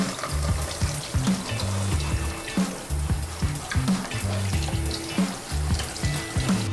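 A gas stove grate is washed in a kitchen sink under running water, with repeated clanks and scrubbing knocks of metal over a steady splash, close by and without talk.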